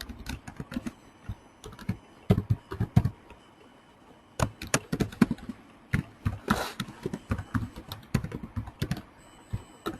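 Java code being typed on a computer keyboard, with irregular bursts of close, crisp key taps separated by short pauses and a brief louder clatter near the middle, no voices.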